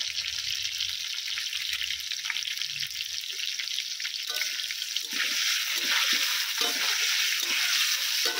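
Potatoes coated with salt and turmeric fry in a pan for mutton curry, a loud, dense, hissing sizzle that runs continuously and grows a little fuller and more crackly midway, with light scraping; nobody talks.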